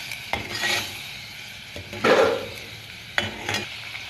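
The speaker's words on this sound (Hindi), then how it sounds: "अब इन्हें भी अच्छे से मिक्स कर लेंगे।" A spoon stirs spices, salt, crushed chillies and pickle masala into green beans and potatoes in a pan, with a few distinct scraping strokes and knocks against the metal over a soft sizzle.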